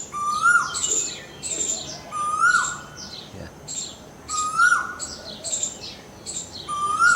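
A koel calls repeatedly in a garden in Raebareli, clear, rising whistled notes that repeat in pairs, set against a soft bed of other bird chirps and faint background noise.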